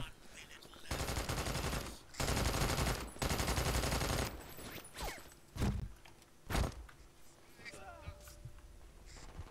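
Gunfire and a grenade blast in the first-person shooter BRINK, with loud bursts of shots and a heavy boom early on, then scattered sharp reports over a continuous combat din.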